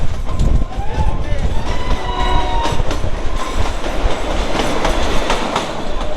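A small toy train on the Kalka–Shimla mountain railway rumbles steadily along the tracks with a clattering rhythm, close and loud, while a voice talks over the running noise.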